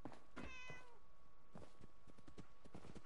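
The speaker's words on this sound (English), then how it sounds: "You get to live, because you're a cat." A cat meowing in the video game Fallout 4, a few short faint meows with soft background game sound, no talk.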